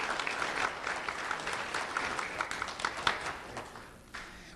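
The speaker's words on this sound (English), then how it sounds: "Let's have a round of applause for our School of the Year," An audience at a school awards event applauds the School of the Year, Tortuga Preserve Elementary, with sustained, fairly close clapping from many hands that tapers toward the end.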